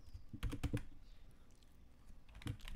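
Close, quiet clatter of a computer keyboard while code is typed, with a quick burst of keystrokes, a pause, and then a few more taps.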